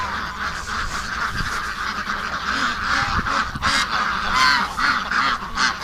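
Ducks and geese at a farm shack honk and quack repeatedly in a noisy, overlapping chorus, close and loud, with no talking.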